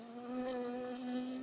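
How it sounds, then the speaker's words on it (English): A bee buzzing in the Firewatch video game, a steady close drone with a strong, unwavering tone that holds for the whole moment. "I got stung by a bee."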